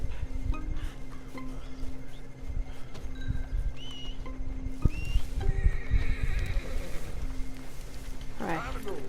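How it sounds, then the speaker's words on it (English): A horse in the video game Red Dead Redemption 2 whinnies loudly near the end after steady clip-clopping hooves, heard over game ambience with a voice talking underneath. "Can I call my horse?"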